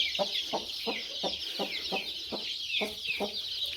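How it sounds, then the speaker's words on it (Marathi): Gavran country hens on a poultry farm cluck in short, regular bursts among a steady high chorus of peeping chicks, close and continuous. "हे बघू शकता कोंबडी."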